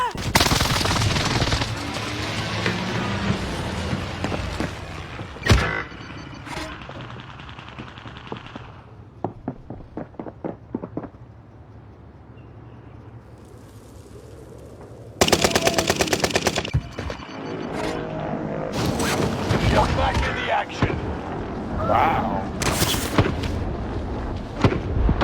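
Video game gunfire crackles in heavy bursts of rapid automatic shots and single cracks, with quieter stretches in between, loud and close under occasional talk.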